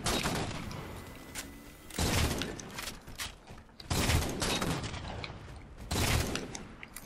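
Gunfire in the video game Halo 4 multiplayer match, a steady barrage of rapid shots with heavier blasts recurring about every two seconds, loud and close with no talk over it.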